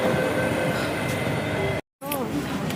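A Bangalore metro train runs through a station, giving a steady loud rumble with a faint high squeal. The rumble cuts out for a moment near the end and then comes back.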